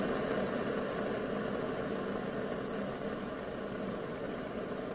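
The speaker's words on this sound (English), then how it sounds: "This engine's running off propane." A propane-fuelled Stirling engine runs with a continuous, even hum and a faint, rapid mechanical rhythm, quiet and steady throughout, with no voices.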